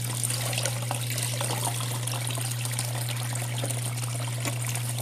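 Water trickles and splashes lightly while sand is washed from a gold pan on a Gold Hog mat and Miller table in Uwharrie National Forest, a close, steady dribble over a constant low hum.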